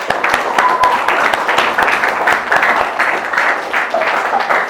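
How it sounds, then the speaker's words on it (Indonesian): A classroom audience of students claps in a dense, continuous round of applause, fairly loud and steady throughout. "Boleh tepuk tangan untuk kita semua."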